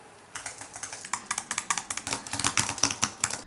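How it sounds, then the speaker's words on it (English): Close computer keyboard typing, a rapid irregular run of crisp clicks that speeds up and grows slightly louder toward the end, with no voices. "all of a sudden they'll hear the keyboard clicking"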